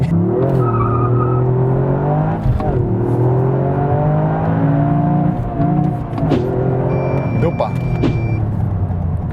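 A Toyota GR Yaris with a manual gearbox accelerating hard, its engine climbing in pitch through each gear and dropping at the shifts, loud and close from inside the cabin, with someone talking over it.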